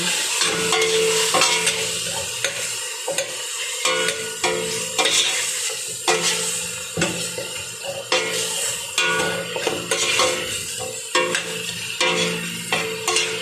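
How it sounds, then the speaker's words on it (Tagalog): A spoon stirs salona with cinnamon powder in a pan, with loud, continuous scraping and sizzling mixed with frying sounds for the whole stretch. "Ilagay lang ako ng cinnamon powder. Kunti lang. Haluin lang natin siya."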